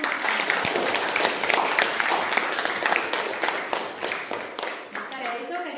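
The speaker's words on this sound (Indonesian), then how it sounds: "Kemudian tepuk tangan dulu." Students and teachers at an Indonesian senior high school clap together at a school event, producing a busy, fairly loud patter of hands mixed with some voices that fades near the end.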